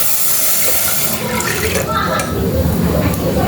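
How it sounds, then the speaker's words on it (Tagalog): Water pours from a tap into a pan holding lightly toasted avocado seeds for tea, a steady rushing splash that brightens and gurgles as the pan fills, with a voice speaking over it. "Saka natin lagyan ng tubig."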